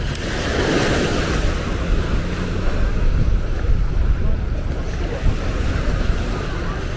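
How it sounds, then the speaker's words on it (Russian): Sea waves break and wash continuously onto the shore at Patong Beach, Phuket, at high tide, a loud, close, steady surf roar with wind buffeting the microphone. "Дальше заходить глубже не буду, потому что большие волны."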